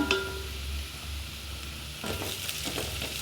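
Onions frying in a pan for dal, a soft continuous sizzle with a few quiet stirring scrapes near the end, close but low in level.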